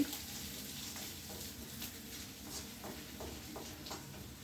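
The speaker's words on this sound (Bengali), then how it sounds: "রসুন কুচো দিলাম এবার আদা কুচো দিয়ে দিচ্ছি এটা একটু ভাজতে হবে" Chopped garlic and ginger fry in oil for a pabda fish curry, giving a steady, close crackling sizzle with faint stirring scrapes, low in level and continuous throughout without talk.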